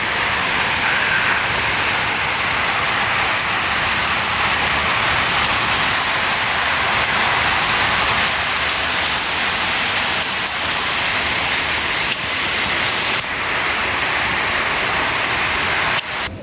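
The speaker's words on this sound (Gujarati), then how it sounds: "આખો દાડો થોડુંક વરસાદ ચાલુ" Steady light rain falls continuously through the whole stretch, a dense even hiss of drops on surfaces with no voices.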